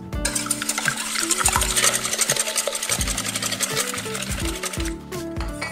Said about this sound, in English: Then we will only whisk this.